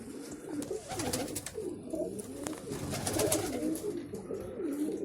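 Several pigeons coo in overlapping, rolling calls close by, continuous over a few seconds with occasional light flutters.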